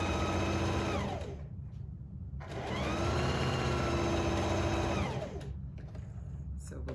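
Sewing machine whirring in two long steady runs as it stitches a short sleeve seam on a newborn nightgown, the motor loud and close with brief slowdowns and pauses between the runs.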